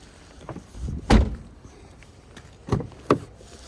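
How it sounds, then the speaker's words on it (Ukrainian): A Jeep Cherokee car door is opened with a latch click and a heavy thunk, followed by a couple more quiet clunks of door handling nearby. "Кожну дверку відкрию, покажу вам"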